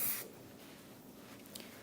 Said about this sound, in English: we're gonna spray some Rapid Shine